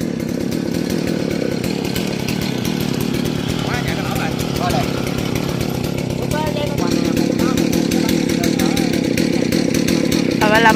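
A chainsaw cuts through the base of a large rain tree beside a house, its engine droning loudly and steadily throughout while a person talks over it.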